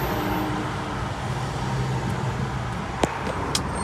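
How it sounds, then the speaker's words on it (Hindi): Heavy road traffic in a long queue of cars, a steady dense roar of engines and tyres close by, with a couple of brief sharp sounds near the end and no talk. "आज बहुत ज़्यादा ट्रैफिक है गाइस,"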